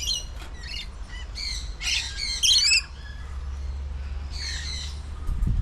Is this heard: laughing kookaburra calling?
yes